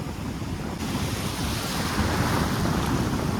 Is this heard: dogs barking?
no